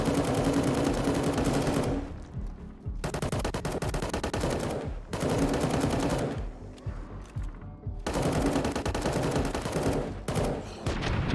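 Rapid automatic gunfire in Fallout: New Vegas, loud and close, coming in three long sustained bursts separated by short gaps, with game ambience underneath.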